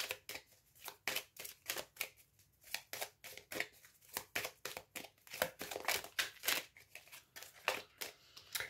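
A deck of tarot cards being cut and shuffled by hand: a quick, uneven run of crisp papery slaps and riffles close up, repeating in bursts without pause.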